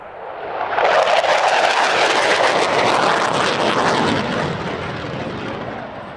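A Lockheed F-104 jet fighter with a General Electric engine roars past at an Italian Air Force centenary airshow, a loud broadband rush that swells quickly, holds, then fades away.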